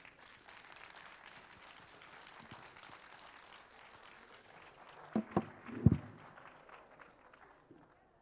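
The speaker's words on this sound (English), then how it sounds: "A round of applause for Cheryl, for those of you that enjoyed the talk" Audience applause for Cheryl's talk at a Colorado conference event: a faint, steady patter of clapping that carries on for several seconds, with a few sharper, louder claps near the end before it fades out.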